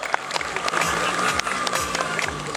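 A crowd at a motorcycle season opening event in Śrem claps for a stunt rider, steady mixed applause and noise with someone talking loudly over it.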